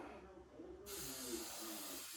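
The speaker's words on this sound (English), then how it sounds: "I just love the feel of that spray" Hair spray hisses from an aerosol can in one steady, close burst lasting over a second, starting abruptly after a quiet moment.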